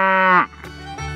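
A single cow moos, a loud, sustained low call with a rich harmonic tone that cuts off abruptly, followed by brief faint rustling and the start of another low call.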